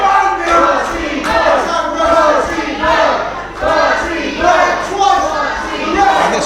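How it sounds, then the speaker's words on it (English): A wrestling crowd at a live match roars and chants loudly throughout, with rhythmic swells of cheering and shouting that rise and fall in waves. "And this crowd, they are behind Party Boy."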